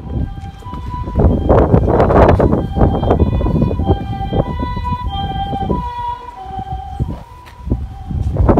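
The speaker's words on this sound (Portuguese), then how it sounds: "e a ambulância não para de passar" A loud wailing ambulance siren sweeps up and down in pitch, with a second siren overlapping as emergency vehicles, including fire engines, pass amid traffic noise.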